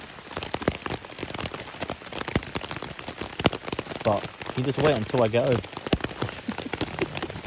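Rain patters steadily on a tent or tarp at a wild camp, a dense close drumming throughout while a person speaks over it.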